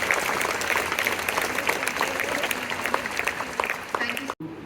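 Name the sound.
applause at school event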